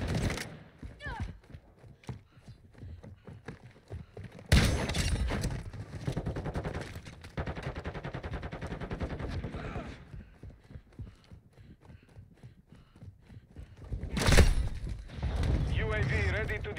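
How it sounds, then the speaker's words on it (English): Gunfire in the video game Call of Duty Modern Warfare 2 during a team deathmatch on the Farm 18 map: bursts of rapid automatic shots, loud and near, with some more distant fire and someone talking over it. "I'm taking fire."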